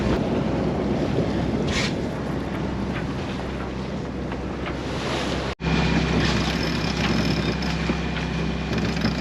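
Wind of about 15 knots roars over a sailboat on open water, a loud constant rush with buffeting against the microphone and the wash of water, a brief dropout midway, and no talk.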